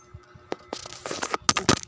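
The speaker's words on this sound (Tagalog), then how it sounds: "Ang dami ko pong barya dito." Old Philippine coins from the 1970s, some with carabao designs, drop and clink together in a quick run of close, bright metallic jingles that grow busier, with no talk.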